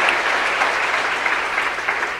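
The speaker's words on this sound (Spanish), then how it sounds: "denle un fuerte aplauso a la palabra de nuestro Señor y Salvador Jesucristo" A church congregation claps during a Spanish-language sermon, a steady wash of dense applause, moderately loud and continuous.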